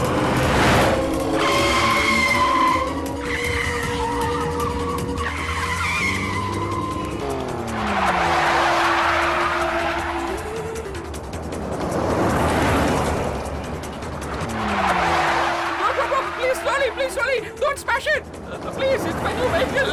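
A car speeds through a chase in a movie scene, engine roaring in surges with repeated tire squeals and skids, loud and close, while several people shout and talk over it throughout.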